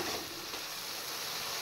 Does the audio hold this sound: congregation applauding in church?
no